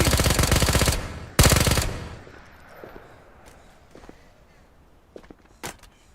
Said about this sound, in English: I hear him shooting.